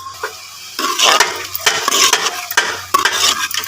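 Cooked mutton being stir-fried in a pot, with close scraping stirs and soft sizzling in repeated bursts, loud and near.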